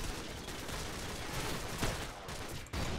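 Dense bursts of automatic gunfire rattle almost continuously in a Call of Duty 4 match on the Backlot map against bots, loud and close with a brief gap near the end before firing resumes.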